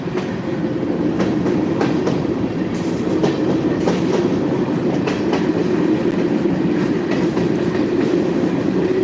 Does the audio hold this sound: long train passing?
yes